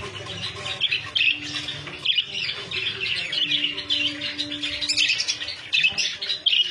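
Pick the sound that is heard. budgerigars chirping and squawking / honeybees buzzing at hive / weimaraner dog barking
budgerigars chirping and squawking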